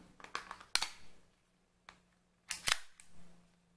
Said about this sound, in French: on va remettre le chargeur